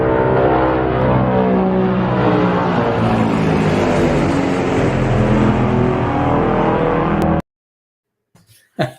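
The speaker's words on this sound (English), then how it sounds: "the big thing about the Bear is it makes this awesome noise" Loud, steady drone from the engines of a Tupolev Bear military aircraft, with layered harmonic bands and a slow wavering beat, running unbroken for about seven seconds before cutting off abruptly.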